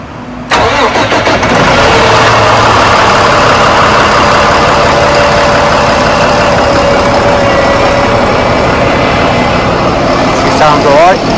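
A diesel HGV truck engine cranks and fires after a brief quiet moment, then settles into a loud, steady rumbling idle that runs close and continuous for about ten seconds.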